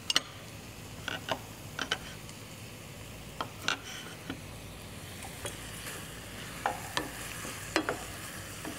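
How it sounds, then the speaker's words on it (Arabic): A knob of butter melts and sizzles in a pan for garlic shrimp. The frying hiss is soft and steady, broken by scattered light clinks and taps of a utensil against the pan. "على ما يبتدي قطعة الزبدة دي تسيح"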